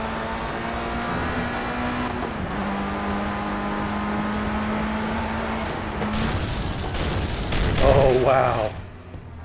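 Simulated race cars in Project CARS (VR) at Donington Park, FR Euro Trophy: a steady engine drone gives way to a loud, chaotic crash burst near the end, with a brief startled voice over it.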